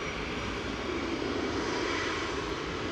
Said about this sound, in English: That's Ryanair's GRUKJ operating flight 1249 over to Tenerife South.